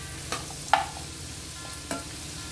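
Ivy gourd stirred into a pan with onion and green chili over low heat gives a soft, quiet sizzle, broken by three brief scraping clacks of a spoon against the pan.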